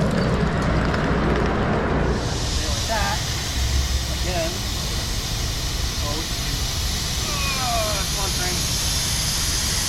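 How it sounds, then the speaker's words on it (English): A 1-inch scale steam locomotive runs nearby with a broad, steady steam hiss that swells after a couple of seconds, overlaid with faint squeals and whistling tones. People talk in the background. "Some of the 1-inch scale people also had their steam locomotives running."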